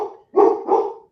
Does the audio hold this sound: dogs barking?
yes